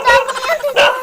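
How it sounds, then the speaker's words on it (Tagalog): A dog barks loudly and close at visitors arriving at a house, two sharp barks with a whimpering yip between, while people talk nearby. "Parang kami kakagatin pa ng aso."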